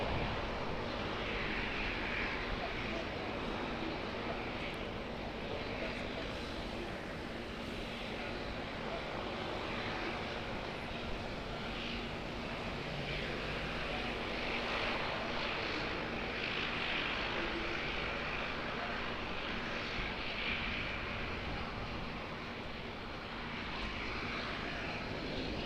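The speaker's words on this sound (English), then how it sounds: "Looks like another ATR coming in." An ATR turboprop arriving at Auckland Airport gives a steady, continuous engine drone that holds at an even loudness throughout, with no voices over it.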